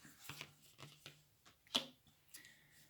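A deck of tarot cards being shuffled in several quick riffles and taps, close and fairly quiet, with small pauses between bursts.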